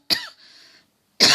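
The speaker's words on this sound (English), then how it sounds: "That's a stress-related cough" A single sharp cough, close and loud, followed by a faint breathy tail, a short pause, then the start of another cough burst.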